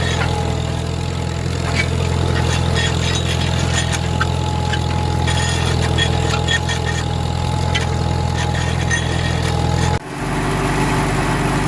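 A Farmall M tractor drags a 13.6-foot set of discs through wet, muddy ground, its old engine running loud and steady with a low throbbing drone throughout, briefly dropping and shifting near the end.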